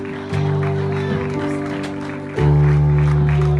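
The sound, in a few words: church congregation applauding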